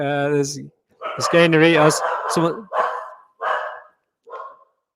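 A dog barks a few times in the background while a person talks nearby; the barks are short and sharp, mixed in with the speech.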